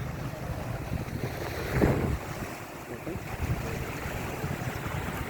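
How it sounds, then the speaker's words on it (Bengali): Sea waves breaking at Patenga beach in Chittagong, a steady low roar of surf mixed with gusting wind on the microphone, with one brief louder surge near the middle and no voices. "প্রচণ্ড ঢেউ"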